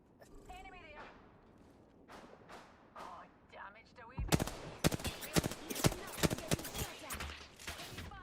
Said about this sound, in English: Unless that's people shooting from across the map.